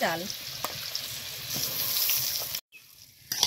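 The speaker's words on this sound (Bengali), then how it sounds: "চালটা হালকা করে কষে নিয়েছি" Rice sautés lightly in oil with chopped green chilies for a matar paneer pulao, a close steady sizzle with stirring scrapes that briefly cuts out, then resumes more quietly.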